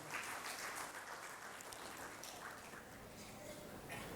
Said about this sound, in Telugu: ఒక్కసారి వారికి గట్టిగా చప్పట్లు కొట్టండి.